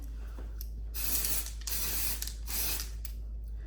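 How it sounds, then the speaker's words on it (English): Dry shampoo sprayed from an aerosol can onto hair along the part line, several short hissing bursts close up over a steady low hum. "So I just focus the dry shampoo on the areas that you will see, right?"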